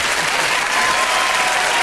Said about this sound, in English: Okay, a big round of applause, shall we, ladies and gentlemen?